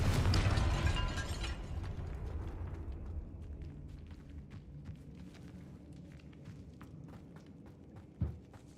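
A Confringo blast spell goes off in the Hogwarts Legacy video game inside a tomb by an altar, a loud burst at the start that rumbles and decays over a few seconds, followed by faint scattered clicks and a small pop near the end.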